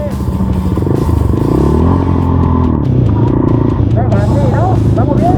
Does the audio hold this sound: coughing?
no